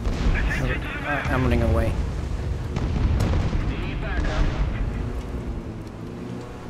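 Booming gunfire and explosions in War Thunder simulator battles while flying a Ta 154, a dense rumbling barrage that continues throughout while someone talks over it.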